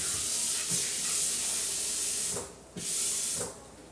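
Water poured into a hot cooking pot while making Guinean okra sauce gives off a loud, continuous hiss of steam, swelling and briefly dropping away twice over a few seconds, with no speech.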